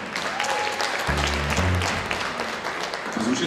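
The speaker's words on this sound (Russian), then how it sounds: "Приветствую специальными аплодисментами Владимиру, Елизавету и Валерию, Анну Богоявл" Concert hall audience applauding at a gala concert and award ceremony for an international competition, a steady dense wash of clapping, loud and continuous, with a voice speaking over it near the middle.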